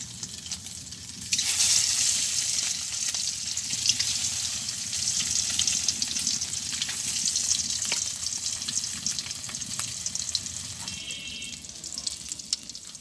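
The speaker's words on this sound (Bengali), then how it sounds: "ডিমটা একটু ভাজি করে নেব হালকা।" A duck egg frying in hot oil in a wok in a village kitchen, heard as a loud, continuous crackling sizzle that flares up suddenly early on and holds steady, with no talking.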